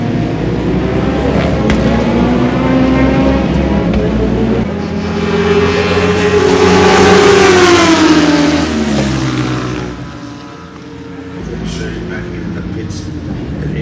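Racing car engine at a motorsport festival, revving loudly and continuously as it slows and accelerates through a tight hairpin bend, pitch dipping then climbing, with a commentator talking over it.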